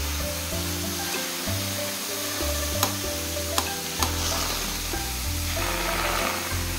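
Water sizzles steadily in a pan where leavened flatbreads stuffed with eggplant are frying, a continuous loud crackle with a low steady hum beneath and a few sharp clicks.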